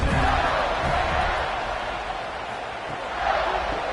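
A football stadium crowd roars in a sustained, broad wash of cheering during a punt return at a college game between the Long Island University Sharks and the Florida Gators, swelling again near the end.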